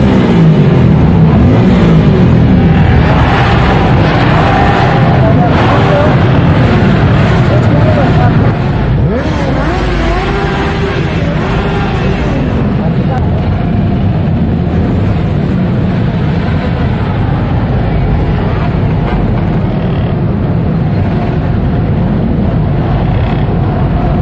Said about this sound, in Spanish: Ruido a tope, rugen los motores.